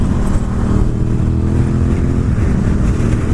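A Honda RC51 (VTR1000 SP2) V-twin sport bike cruising in sixth gear at around 4,000 RPM and 65 mph, with a loud, steady engine drone mixed with wind rush.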